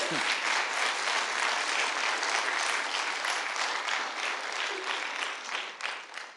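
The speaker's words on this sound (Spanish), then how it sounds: "Dale un fuerte aplauso." A church congregation at an Easter Sunday service breaks into loud, sustained applause, a dense wash of clapping that tapers off near the end.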